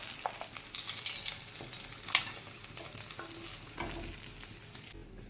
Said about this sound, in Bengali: এইভাবে আর সব মাছগুলোকে ভেজে নেব।